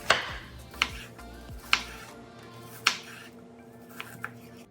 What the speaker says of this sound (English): Start by chopping the onion.